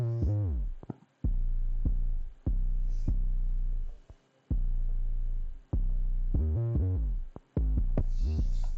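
Heavily processed 808 bass from a trap beat plays alone: a repeating pattern of deep booming hits that slide and decay, separated by brief gaps, loud and close, with faint hi-hat ticks above.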